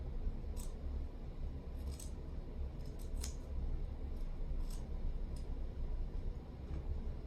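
Scissors cutting fur fabric to shape a rounded triangle for a gnome, with a series of crisp, close snips spaced irregularly over a faint steady background hiss.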